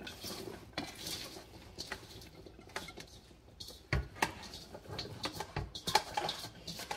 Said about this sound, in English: So I'm just going to add this to my slow cooker.